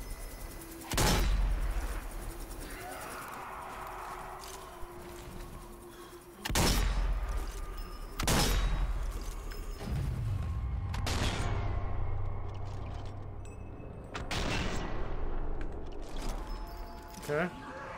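Loud, separated bursts of gunfire in the zombie shooter Zombie Army 4, with sharp blasts around 1, 6.5, 8.5 and 14 seconds over continuous game noise and a speaking voice.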